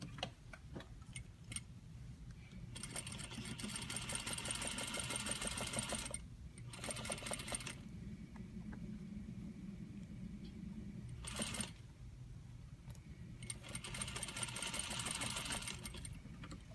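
Sewing machine stitching a lapped zipper with facing, several close bursts of fast rhythmic mechanical whirring separated by short pauses and ticking clicks, no talk.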